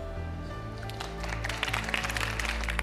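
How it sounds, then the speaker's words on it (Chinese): Audience applause for street dancers at a televised dance competition swells midway into dense, sustained clapping over steady background music. "再次把我们的掌声送给我们可爱的舞者"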